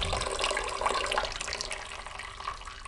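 Water runs steadily from a newly connected filter tap in a house, a constant hissing, splashing flow close by with no pauses.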